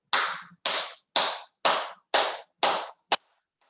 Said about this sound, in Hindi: गिन करके 30 ताली बजाएंगे और 31 ऊपर कर लेंगे